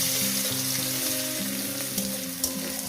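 Green chilies and onion frying in hot oil, a steady close sizzle and crackle running without pause, with a few brighter spits near the end.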